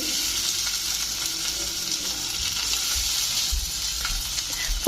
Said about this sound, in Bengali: তেল তো গরম হয়ে গেছে এবার একটা একটা করে দিয়ে দিই